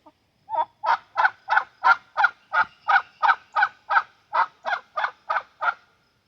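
A run of about sixteen steady, evenly spaced clucks from a chicken, close and fairly loud, with no talking.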